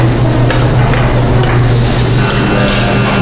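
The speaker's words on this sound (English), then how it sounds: "I'm just going to mix it very simple with all the other ingredients" Hot zucchini stuffing with Oaxaca cheese is stirred in a pan, giving a dense, continuous sizzle with a low hum underneath and faint scraping, loud and close with no talk.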